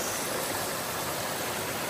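Shallow, low stream water flows steadily on a hiking trail after little rain. A continuous close hiss and babble holds even throughout, with no talking.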